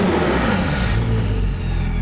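An 800hp Porsche 911 GT2 engine rumbles close by, a steady, loud low drone that settles slightly after the first second, with no talk over it.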